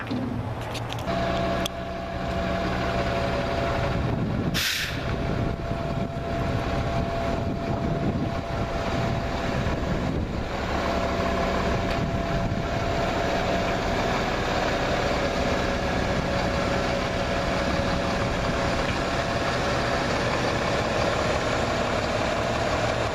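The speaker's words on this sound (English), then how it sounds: "we are protected from the noise from the engine and the pump" A steady fire truck engine drone with its pump running underneath, from a Spencer Manufacturing rear-mount tanker, continuous and fairly loud throughout, with a brief sharp burst near the start.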